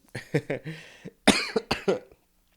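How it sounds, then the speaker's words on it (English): A short burst of close coughs, a few harsh hacks in quick succession, then a second cluster after a brief pause. "I had to cough for a sec"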